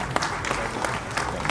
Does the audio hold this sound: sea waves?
no